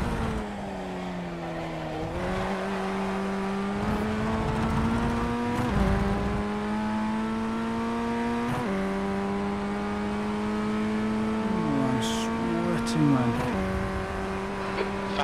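The Ray FF1600 race car's engine sounds at Navarra in iRacing, a loud, close, continuous buzzing drone that climbs through the gears, dropping at each upshift and downshift, with brief squeals and talk over it.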